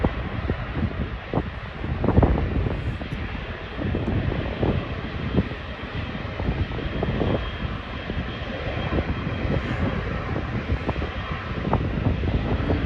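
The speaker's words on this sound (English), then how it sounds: "The king of the sky, the A380," An Airbus A380 airliner flies at Schiphol airport on a very windy day, its engines giving a steady loud roar mixed with gusty wind buffeting the microphone, with no talking.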